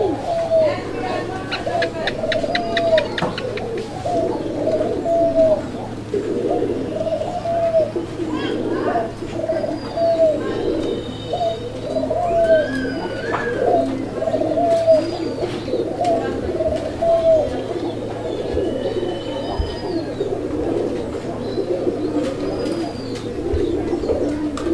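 A pair of red Rajgolla pigeons coo repeatedly in low, rounded calls spaced every second or two, close by, with faint chirps and background murmur around them.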